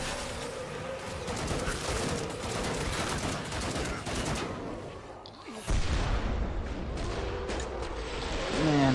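Robot enemies in Killing Floor 2 loosing dense, continuous gunfire and blasts, a heavy rattling barrage that breaks for a moment, then resumes with a booming impact and more shooting.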